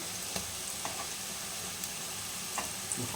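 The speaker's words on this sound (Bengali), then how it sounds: "দেখুন এইভাবে ভাজতে হবে।" Fig fritters fry in hot oil with a low, even sizzle, interrupted by a handful of light clicks and taps from turning or lifting them.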